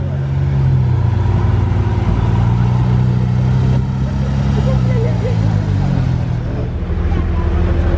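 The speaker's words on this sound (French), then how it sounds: "Lamborghini Huracan Performante" A Lamborghini Huracan Performante's engine rumbles steadily and fairly loud, with a low drone that shifts slightly in pitch, heard on a street in Monaco while someone speaks over it.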